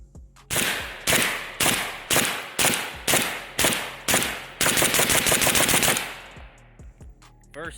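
A Pioneer Arms 5.56 sporter underfolder AK rifle fires at an outdoor range, first as about nine sharp, evenly spaced single shots and then as a fast string of rapid shots before the sound stops.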